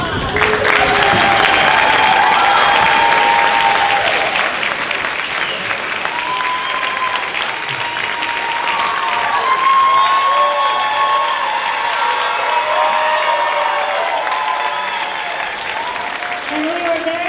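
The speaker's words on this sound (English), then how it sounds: "Another round of applause." An audience at a school guitar concert applauding the graduating seniors: sustained, dense clapping with some cheers and shouts, loud and close, with voices mixed in throughout.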